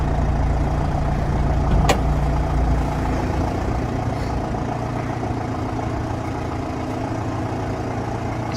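An LTI TXII London taxi, left sitting for a few weeks, runs close by with a steady, heavy low engine idle after a brief start-up knock, the rumble holding even throughout.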